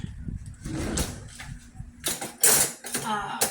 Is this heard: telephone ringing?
no